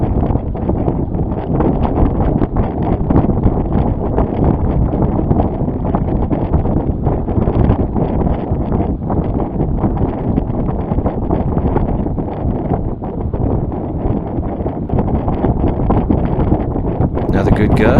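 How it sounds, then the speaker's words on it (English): Wind gusting over a sailboat moving on a lake, a loud, continuous low roar buffeting the microphone for the whole stretch, with no talk. "Another good gust."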